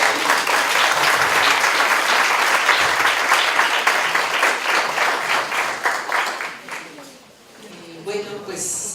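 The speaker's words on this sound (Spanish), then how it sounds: "Pues, démosle un aplauso." Audience applause at an academic lecture, a dense, steady wash of clapping from a large crowd for about seven seconds before it thins and fades, with a speaker beginning to talk at the end.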